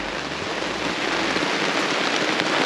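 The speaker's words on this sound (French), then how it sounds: "on est parti s'abriter parce qu'il flotte énormément" Heavy rain pours steadily onto tarps at a rainy bushcraft camp, a dense, continuous hiss of drops drumming close by with no voices.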